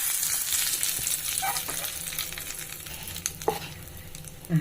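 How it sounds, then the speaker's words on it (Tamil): Mustard seeds and curry leaves crackle and sizzle in hot oil as a tempering for spicy chutney, a dense close-up fry with sharp pops rising above the hiss. "கடுகு போட்டுக்கிறோம் நல்லா பொரியுது"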